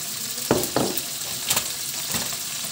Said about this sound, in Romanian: Și acum punem baconul.